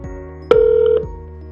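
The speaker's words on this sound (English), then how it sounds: "go ahead and make that first phone call." Outgoing phone call ringing in the Aloware Talk app: a single clear electronic ring tone lasting about half a second, loud and alone over a quiet background hum.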